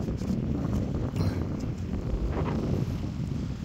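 Wind buffets the microphone on a small fishing boat out on the water, a low, continuous rumble with irregular gusty surges and faint rustling throughout, with no voices.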